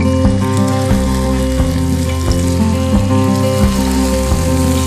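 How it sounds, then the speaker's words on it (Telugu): Lamb frying in butter and oil in a pan, a loud, steady, close sizzle with dense crackling and popping throughout and no talk. "అది కూడా బటర్ లో కలిసిపోయి ల్యామ్ flavour, butter flavour, oil flavour అన్ని కలిసిపోయి ఈ మీట్ పర్ఫెక్ట్ గా ఫ్రై అయిపోతుంది"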